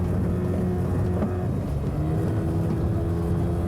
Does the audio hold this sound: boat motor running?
yes